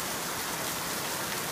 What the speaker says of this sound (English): It's ridiculous how much it's been raining.